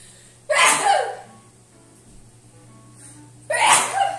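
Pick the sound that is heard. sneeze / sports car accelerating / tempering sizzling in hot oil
sneeze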